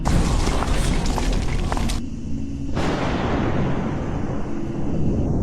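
Loud booming bangs, firecracker-like, burst over a dense roar of noise, with a sharp break near the middle and another blast shortly after.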